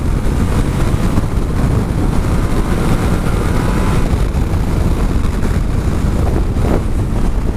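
A Yamaha Ténéré 700 adventure motorcycle on off-road tires ridden fast on a road, with steady engine drone and heavy wind rush over the microphone throughout.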